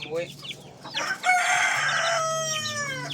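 A rooster crows loudly and close by in a long harmonic call, with other large chickens clucking around it in a farmyard.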